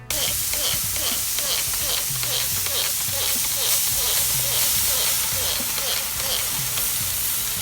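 Beef short ribs on a smoker get a liquid spray, a continuous close hissing and sizzling with faint crackles and rhythmic low knocks throughout, no speech.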